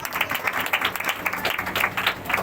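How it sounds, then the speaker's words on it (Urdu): A congregation at a church service applauds for Jesus, a dense, steady patter of many hands clapping together throughout, fairly loud and close, with no clear talking over it. "یسوع کے لیے زوردار تالیاں بجائیں"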